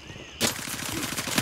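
Rapid automatic gunfire in the video game Gray Zone Warfare, a sudden loud burst of fast evenly spaced shots that starts after a brief quiet lead-in and keeps going to the end.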